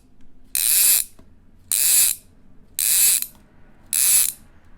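Orvis Battenkill fly reel clicking loudly in four separate bursts, each about half a second long and evenly spaced, as line is stripped off the spool; a bright, rapid ratchet buzz with quiet gaps between the bursts and no talking.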